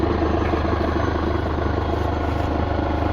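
An old farm tractor's engine runs steadily at idle outside a workshop, a loud, close, constant low throbbing rumble with no voices.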